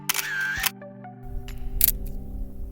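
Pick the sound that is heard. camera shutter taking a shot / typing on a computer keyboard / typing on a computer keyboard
camera shutter taking a shot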